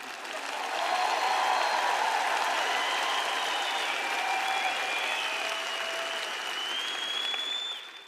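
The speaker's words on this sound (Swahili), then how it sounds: "Mbona sipati makofi mazuri kwa hilo?" Sustained audience applause fills a church or conference hall, a dense wash of many hands clapping steadily for about seven seconds before tapering off, with no voices over it.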